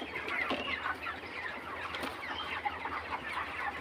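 Broiler chickens on a poultry farm cluck and murmur continuously at moderate distance, several birds overlapping in a busy, steady chatter.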